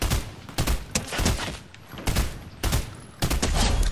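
Shotgun blasts in the Fortnite video game fire in a loud, rapid series, roughly four heavy booming shots each followed by a decaying rumble, with no talking over them.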